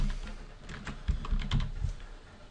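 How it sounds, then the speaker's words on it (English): Typing on a computer keyboard, entering a name during an Ubuntu install: a steady run of close, light key clicks with slightly uneven rhythm and no talking. "So type in your name"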